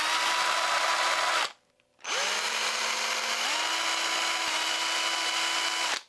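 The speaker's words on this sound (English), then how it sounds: "This is the rear hook eye, and I'm drilling it on a really steep angle" A power drill boring a steep-angled hook eye hole into a PVC minnow lure, a loud, close whine that stops briefly, then restarts and ramps up before settling into a steady whirring run.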